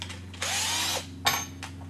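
A power drill drives screws through a U-bracket into wall anchors during a hot water cupboard installation, two short high whirring bursts close by with small clicks between them.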